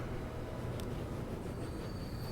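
A train rolling along rails in Transport Fever 2, a low, steady rumble of wheels and carriages at a fairly faint, distant level with a brief faint click partway through.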